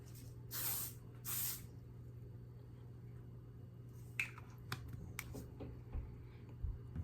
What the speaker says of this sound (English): I'm just gonna set my face with that real quick.